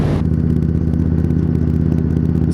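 2019 Indian Scout Bobber with a 1133cc V-twin and V Performance exhaust idling close up, a loud, throbbing, lumpy exhaust burble with a steady rhythmic pulse after a brief opening burst.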